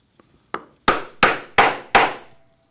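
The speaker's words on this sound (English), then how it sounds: "I will cut that with a strap end punch of the proper size" A 3/4-inch strap end punch is struck to cut the end of a leather strap, with one lighter tap followed by four loud, evenly spaced hammer blows. Each blow rings out briefly and fades fast, with no talking.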